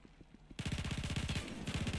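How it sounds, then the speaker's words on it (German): Rapid automatic gunfire in GTA V, a dense burst of shots in quick succession after a brief quiet moment, loud and close, continuing without pause to the end. "Oh, hier wird geschossen."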